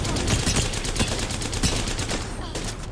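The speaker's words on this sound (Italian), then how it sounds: "Stanno sparando." Dense bursts of automatic gunfire in the video game Apex Legends, Winter Express mode, crackling nonstop across three seconds with loud rapid repeated shots.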